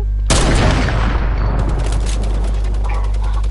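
Sniper rifle fire in Fortnite's Food Fight mode: one sharp, loud shot rings out and decays into a long rumbling tail, with no talking.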